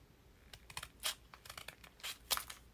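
Scissors snip and crinkle folded paper for a scripture pocket craft, a string of short, close crisp cuts and paper rustles with brief pauses between them and no talking.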